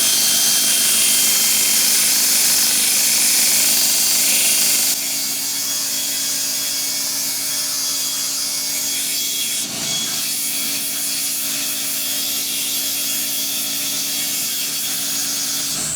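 A belt sander contours a small metal feed handle for a mini milling machine with a finer belt, giving a steady, continuous abrasive whirring rub that runs close and loud throughout, slightly quieter after the first few seconds, with no talking.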